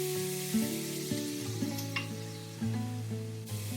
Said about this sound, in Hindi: प्याज को बहुत ज़्यादा फ्राई नहीं करना है, बस हल्का पिंक हो गया है।